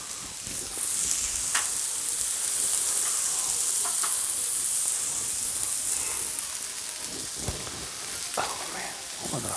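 Shrimp sizzle on a Blackstone flat-top griddle while shrimp fried rice is cooked. A steady, bright frying hiss runs throughout, with a few sharp clinks and scrapes from utensils.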